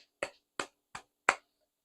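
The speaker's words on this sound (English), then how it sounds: "Clap it up." Four sharp, close hand claps spaced about a third of a second apart, crisp and isolated against silence, given as a small celebratory clap indoors.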